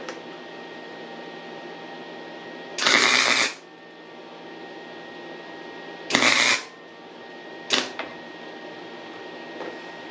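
A Harbor Freight 125 flux core welder lays short tack welds, two crackling buzzes of under a second each and a briefer third burst, separated by quiet pauses over a steady low hum.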